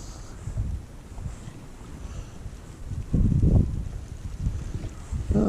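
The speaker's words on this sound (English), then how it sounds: "Of course the wind picked up just as I want to start fishing" Wind gusting outdoors at a fishing spot by the water, a steady rushing roar buffeting the microphone with stronger low gusts midway and again at the end, no talking.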